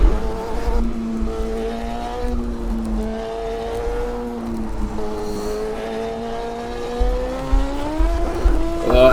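A race car in Automobilista 2 holds a steady engine drone that climbs and dips through gear changes, loud and close with no talking.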